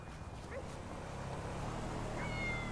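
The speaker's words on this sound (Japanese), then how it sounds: "お、猫だ。" A cat meows in the video game Grand Theft Auto 5, a few short faint mews over a low game background hum.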